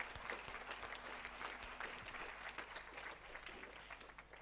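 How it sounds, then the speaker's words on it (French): A church congregation claps for the Lord in a steady, sustained round of applause from many hands filling the room, with faint voices mixed in. "Somebody clap for the Lord."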